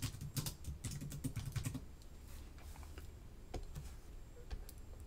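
Rapid typing on a computer keyboard while a signature is entered with the type tool in Photoshop, with dense clicking for the first two seconds, then sparser, quieter keystrokes over a steady low hum.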